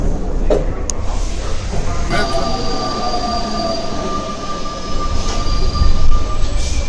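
A subway train rumbles along close by, its wheels squealing in long, thin metallic tones over the steady roar of the cars.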